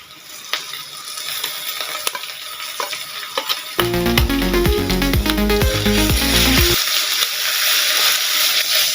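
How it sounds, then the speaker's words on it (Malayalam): Crushed kanthari chilies and small shallots go into half-sautéed onion in hot oil for a koorka stir-fry, setting off a loud, close sizzle with stirring scrapes and clatter. A rhythmic tapping sounds briefly in the middle before the frying carries on alone. "ഇതിലേക്ക് ചതച്ചു വെച്ചിരിക്കുന്ന കാന്താരിയും ചെറിയ ഉള്ളിയും ചേർത്ത് കൊടുക്കുക"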